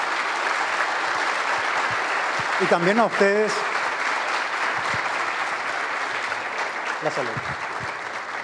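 An audience at a Spanish-language conference applauds its panelists with steady, sustained clapping that fills the room throughout, while a speaker briefly talks over it near the middle.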